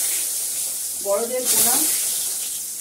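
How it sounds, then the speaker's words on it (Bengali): Pointed gourd (potol) frying in a pan, giving a steady, bright sizzling hiss throughout while a voice speaks briefly in the middle. "পটলটা ভেজে নি"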